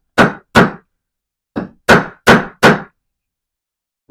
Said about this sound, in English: I guess I'll use this as my hammer.